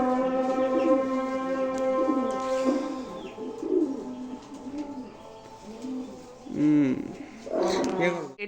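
Pigeons coo softly and repeatedly close by over a steady electrical hum, and a person speaks briefly near the end.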